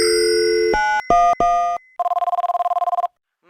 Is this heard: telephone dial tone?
yes